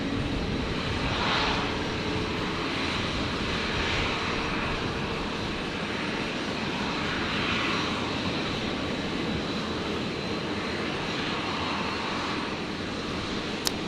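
A Virgin Boeing 737 airliner rolls along a runway at Brisbane Airport, its engines giving a steady broadband roar that holds loud and unbroken throughout, with no voices.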